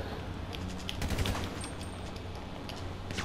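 Rapid gunfire in GTA 5 Online: dense bursts of shots crackle over a steady game background, fairly loud and continuous for a few seconds, with no talking.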